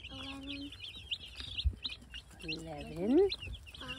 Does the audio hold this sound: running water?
no